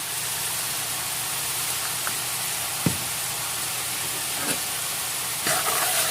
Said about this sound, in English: you want to stir that in until the shrimp is nice and pink and opaque